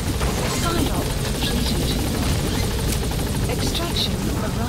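A helicopter in Metal Gear Solid V: The Phantom Pain makes a loud, steady rotor roar and whine that fills the clip. Game sounds run underneath.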